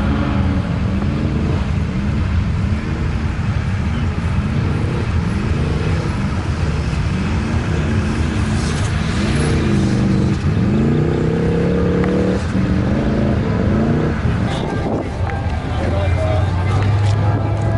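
At a Summernats burnout pad, a Commodore revs hard in repeated rising and falling surges, loud and close amid crowd noise and shouting.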